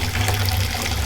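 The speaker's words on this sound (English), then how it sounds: "you'd be surprised how quickly this 55 gallons can actually siphon into this." Water from a 55-gallon drum siphons through a hose into a container on a farm, a steady, loud rushing flow with no pauses.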